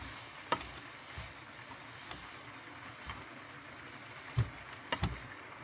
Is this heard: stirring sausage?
yes